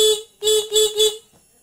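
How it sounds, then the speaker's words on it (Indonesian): Electric horn of a Honda Beat fuel-injected scooter sounds three times, one short honk followed by two longer blasts, loud and close with a steady buzzing tone and no voices. "ini mantap ya klaksonnya"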